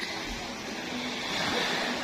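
Steady ocean surf at a Batangas beach resort, taken in from a fourth-floor view, forms a constant, even hiss and rumble of breaking waves that swells slightly toward the end.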